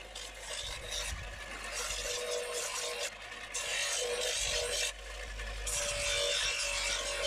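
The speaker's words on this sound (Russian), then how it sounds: "Итак, мы отшлифовали нож." Steady, continuous rasping and scraping of sandpaper against a metal knife blade, a dense broadband hiss with brief dips in intensity, close and fairly loud, no talking.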